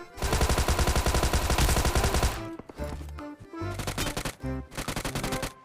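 Gunfire in the mobile battle-royale game PUBG Mobile: a loud sustained automatic burst, then a pause and several shorter bursts of rapid shots, close and dominant with no talk.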